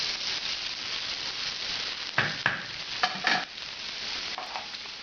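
Onion sizzles and fries in a pan after pork has been browned, a soft steady hiss broken by a few scraping stirs partway through, close up with no talk.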